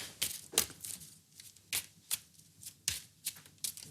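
Playing cards are shuffled close by in quick, crisp bursts of riffling and snapping, roughly a dozen sharp flurries in a loose rhythm.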